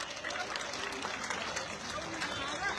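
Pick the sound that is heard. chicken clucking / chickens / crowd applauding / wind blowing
crowd applauding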